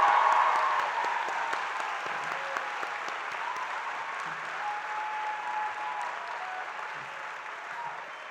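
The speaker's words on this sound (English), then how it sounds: "could we please give her a big round of applause?" An audience at a university commencement breaks into sustained applause that starts loud and slowly fades, with scattered cheers and voices mixed into the clapping.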